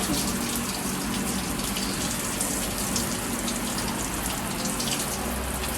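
Running water rinses chlorine out of dreadlocked hair at a swimming pool, a steady broadband gush like a shower or tap pouring continuously and close by, with no talking.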